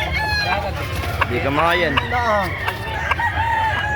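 Gamefowl roosters at a Carbon, Cebu market give a couple of loud, close crows with chickens clucking around them, over busy background chatter and a brief spoken line.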